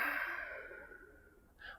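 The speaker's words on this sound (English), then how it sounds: "Take a long exhale." A long, steady exhale through the nose during a yoga breathing exercise, a soft continuous breathy hiss that slowly fades over nearly two seconds, followed by the brief start of a fresh breath.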